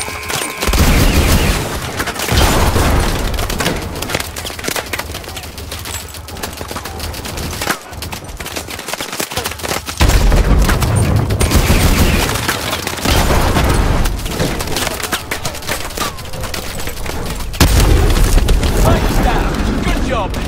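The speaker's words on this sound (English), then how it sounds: "Titan with the launcher, Mitchell!" In the video game Call of Duty: Advanced Warfare, a launcher fires amid dense gunfire and heavy booming explosions, loud and continuous across the whole stretch, with a voice briefly calling out over the combat.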